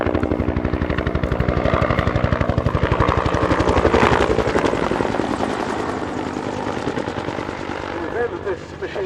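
A Bell UH-1 Huey helicopter beats loudly nearby, its rotor chopping in a fast regular rhythm over turbine whine before easing off, with a voice speaking over it.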